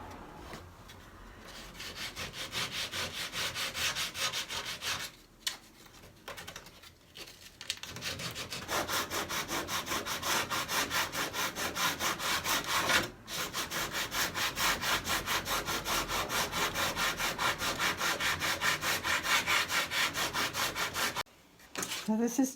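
240-grit sandpaper is worked by hand over wood veneer on furniture stripped of thick old lacquer, giving a close, continuous scratchy rubbing in steady back-and-forth strokes with a few short pauses.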